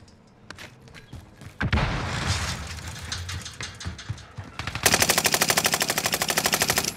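A stun grenade is thrown during a Warzone match, with a loud burst about midway followed by rapid, rhythmic automatic gunfire that stays prominent to the end.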